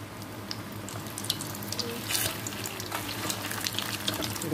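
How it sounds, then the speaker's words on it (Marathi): Vegetable cutlets deep-fry in hot oil, giving off a dense, continuous, rushing bubble and crackle at a steady moderate level, close by. "आपण मस्तपैकी डीप फ्राय करतोय"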